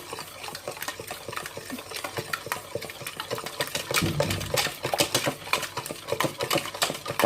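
Cake batter with milk is mixed by hand in a bowl, making a rapid, uneven run of wet scraping and clicking strokes that stays close and steady with no voices.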